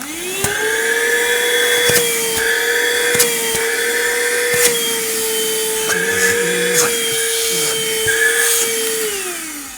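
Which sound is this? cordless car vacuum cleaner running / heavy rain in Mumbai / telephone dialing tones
cordless car vacuum cleaner running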